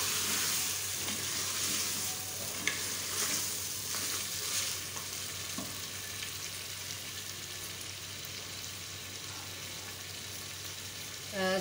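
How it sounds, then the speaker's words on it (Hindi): Mutton fries in a pan with a steady close sizzle and crackle, broken by occasional stirring scrapes, continuous and moderately loud with no talking. "मटन की अच्छी तरह से फ्राई कर लें।"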